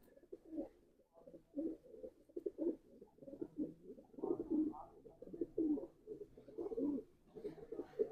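Pigeons coo repeatedly in soft, low, rhythmic phrases, close by and fairly quiet, with a faint voice now and then in the background.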